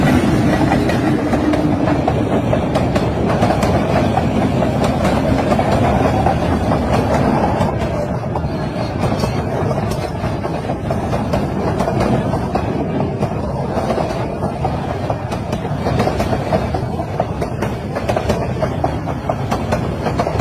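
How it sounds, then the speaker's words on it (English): A train rolls past a cow on the tracks, giving a steady, loud rumble with continuous rail clatter that holds for about twenty seconds without a break. "This video shows a cow get hit by a train and the cow just shakes it off."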